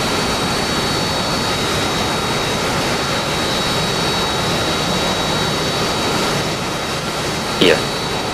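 Steady jet engine roar of a Harrier in the DCS flight simulator, a constant broadband rumble and whine filling the clip with a brief blip near the end.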